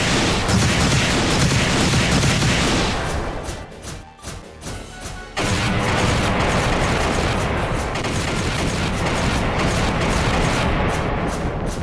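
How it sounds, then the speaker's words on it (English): Howitzer artillery fire in the video game Trails in the Sky SC: a dense, sustained roar of booming blasts and rumbling explosions, briefly dropping to a lull midway before the heavy barrage resumes, loud and continuous. "Howitzers, load and aim!"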